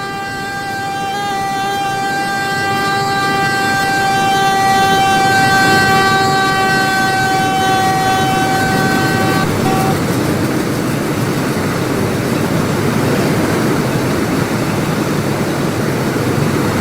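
A DMU Metrolink commuter train in a sandbox video game sounds a long, loud multi-tone horn for about ten seconds, then keeps rumbling past in a heavy, steady roar with no voices.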